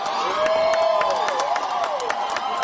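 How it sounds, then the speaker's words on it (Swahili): A large crowd at a presidential rally in Homa Bay, Kenya, claps and cheers steadily and loudly, with whoops and a dense wash of applause that lasts throughout. "Makofi wananchi."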